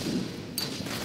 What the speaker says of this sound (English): Actually, I might use my mortar for once.